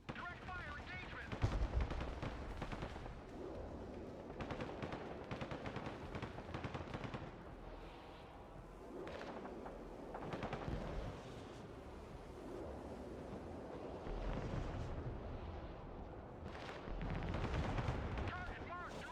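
Gunfire and artillery fire boom almost nonstop in the multiplayer war game Broken Arrow, clashing American air assault against Russian armor. Heavy thuds and rattling bursts overlap at close and middle range, with radio-style voice callouts mixed underneath.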